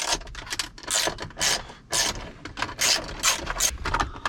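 A ratchet with a 10mm socket clicks in quick, repeated bursts while removing bolts from the interior trim of a Corvette, close and crisp with brief pauses between strokes.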